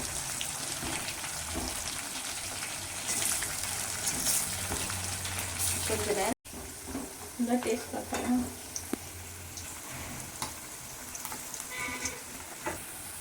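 Chicken 65 pieces fry in hot oil with a continuous crackling sizzle and occasional stirring, close and fairly loud, broken by a brief cut midway, with some talk alongside.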